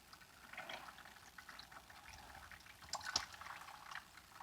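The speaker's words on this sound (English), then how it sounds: "That's me just squeezing at the top of the bag." Liquid squeezed out of a bag of grated zucchini onto a cutting board, a faint wet trickling and dripping with a few soft squelches, close and quiet with no talking.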